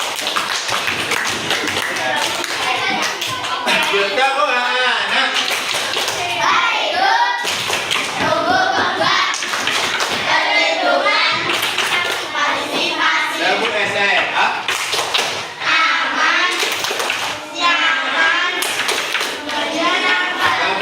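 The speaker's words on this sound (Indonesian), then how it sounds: "Sekarang tepuk tangan untuk kita semua." A class of primary schoolchildren claps together in a classroom, a busy mix of rhythmic patting and hand claps with children's voices chattering and chanting over it throughout.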